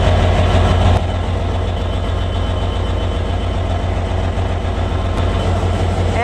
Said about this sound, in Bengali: ঢাকা বেনাপোল এক্সপ্রেস ট্রেনে কেরিয়ারিল রেল স্টেশনে দাঁড়িয়েছে।